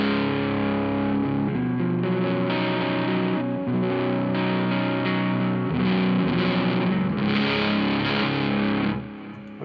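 An electric guitar played through a Mozztronics Tonemeister drive pedal rings out in thick, distorted chords that are struck and left to sustain, loud and close, with no voices.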